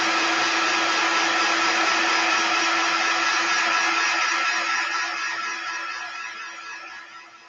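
A handheld dryer blowing steadily close by to dry a chalk paste transfer on a Valentine's Day tiered tray piece, a constant whooshing hum with a steady tone that tapers off toward the end.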